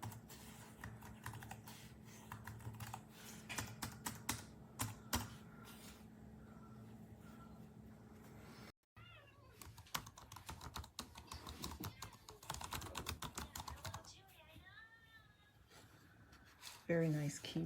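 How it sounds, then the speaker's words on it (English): Fingers tap on the keys of an OMOTON ultra-slim Bluetooth keyboard for iPad, a run of crisp, close clicks in uneven bursts, with a voice talking over part of the typing. "Bluetooth keyboard."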